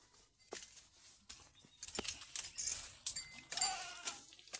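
Baby goats give a few short, faint bleats close by, mixed with light rustling and small clinking noises, with no talk.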